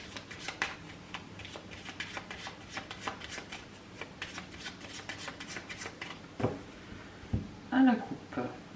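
Tarot cards being shuffled and then cut, making a quick run of soft papery riffles and taps that ends in a sharper clap, with a brief voice near the end.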